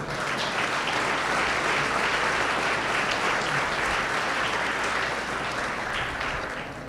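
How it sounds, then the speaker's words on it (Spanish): Sustained applause from a church congregation, filling the room steadily for about seven seconds and easing off slightly toward the end, with no speech over it. "Dele un aplauso a Cristo."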